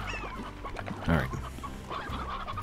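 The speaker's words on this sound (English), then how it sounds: "Get in there, chickens." Chickens clucking in the farming video game Slime Rancher, a few soft, scattered clucks over a steady low background hum, with one brief louder call near the middle.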